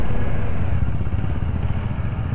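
Motorcycles of a biker group on a Republic Day ride rumble together in a steady, close, low engine drone with no talking.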